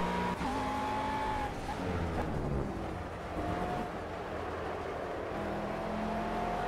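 A McLaren GT3 race car at Catalunya in Project CARS drones steadily at high revs, with rising and falling engine tones and light tire noise, continuous and close.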